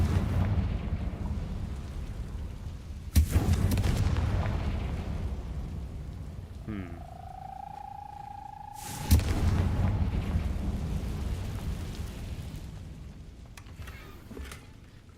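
Confringo spell explosions in the Hogwarts Legacy video game: two loud booming blasts several seconds apart, each trailing off into a rumbling roar, with a whooshing spell tone between them and no talk.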